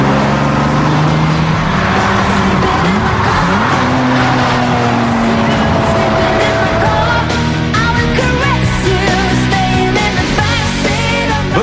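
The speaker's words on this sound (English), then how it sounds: "when I get this Bugatti into the turbo zone, no one wags a finger. I'm driving a fast car quickly" A Bugatti sports car in Italy roars at high speed through its turbo range, engine note rising and shifting steadily, loud and close for the whole stretch with tyre noise mixed in.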